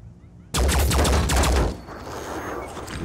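Dense rapid gunfire from the turn-based video game Phoenix Point erupts as a loud, sustained volley of overlapping shots, then cuts off into a softer trailing rumble, with no talking.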